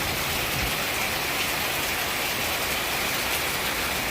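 Steady rain pours down over a flooded home area, a dense, unbroken hiss of drops that stays constant and fairly loud throughout with no voices.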